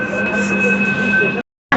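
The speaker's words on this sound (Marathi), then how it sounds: "पा कशी मेट्रो फिरते" An almost empty metro train runs with a steady, loud rumble and a high, even whine, which cut out abruptly near the end before a short burst returns.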